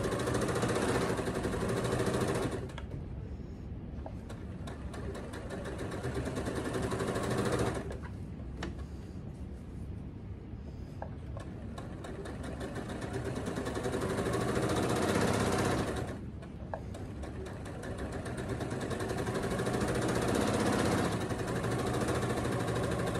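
A Handi Quilter longarm quilting machine runs steadily while sewing a tote bag seam with a short backstitch, its motor buzzing loud and close, cutting out briefly twice between stitching runs with no talk.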